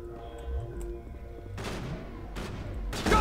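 Rapid bursts of gunfire and explosive booms from the Mass Effect video game, loud and close, with dense volleys in a hectic firefight.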